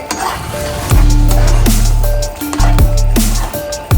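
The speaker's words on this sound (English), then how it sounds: "Stir it up." Brown stew pork gravy being stirred in a pot, with a soft sizzle and repeated scraping strokes and knocks from the spoon against the pot, loud and close.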